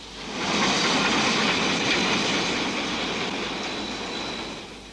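A train rumbles past on a mountain railway by the Waimakariri River in New Zealand, with a broad, steady roar that swells quickly and slowly fades, with a faint high squeal in the mix.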